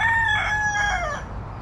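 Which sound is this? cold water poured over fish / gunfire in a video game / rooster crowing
rooster crowing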